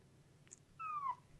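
A tiny male kitten gives a single thin, high meow, soft and fairly close in a quiet room, preceded by a faint squeak.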